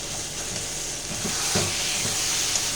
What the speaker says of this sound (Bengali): শেষ মুহূর্তে কিন্তু অনেক ঘন ঘন একটু নাড়তে হবে, না হলে কিন্তু এই যে কড়াই লেগে যাবে।